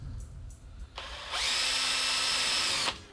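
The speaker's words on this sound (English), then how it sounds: "now I'm just going to drill a pilot hole" A power drill whirs up and bores a pilot hole into a wooden electric octave mandolin body, a bright steady whine holding for about a second and a half before cutting off sharply.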